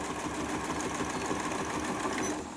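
A sewing machine runs a straight line of stitching with a steady, unbroken whir, quiet and close, with no other sounds.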